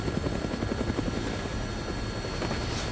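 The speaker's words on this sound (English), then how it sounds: "Looks like taking a helicopter was the way to go." Helicopter in the video game Dead Rising, its rotor thumping in a steady rapid beat, loud and close throughout with no talk.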